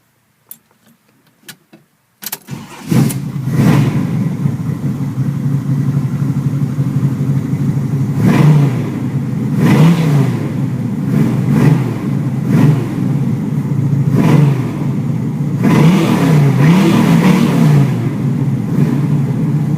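A 1981 Camaro with a 383 stroker V8 rated around 425 horsepower cranks with a few clicks, fires up and settles into a loud, lumpy idle, then is blipped through several sharp revs that rise and fall close by.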